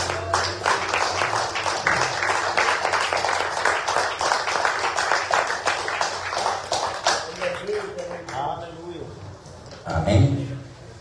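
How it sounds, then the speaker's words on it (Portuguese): A church congregation claps rhythmically together in a fast, steady patter that runs for about eight seconds and then fades. A voice speaks over the clapping. "quem puder, as palmas é do Senhor Jesus"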